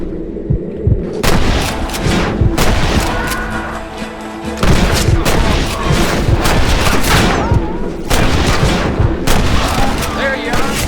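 Shootout gunfire in the Western game Red Dead Redemption: dense, loud volleys of shots in rapid bursts across the whole stretch, with booming low-end impacts and a few short gaps between barrages.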